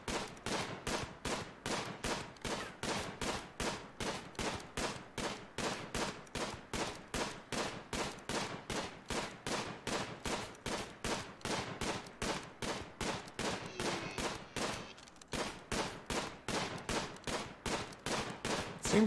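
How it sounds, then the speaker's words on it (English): Rapid regular gunshots as RimWorld colonists shoot at animals, a long unbroken string of sharp cracks about two or three per second, briefly pausing once before resuming, moderately quiet and without voices. "Seems like he's shooting a little bit at one animal and then change to another animal."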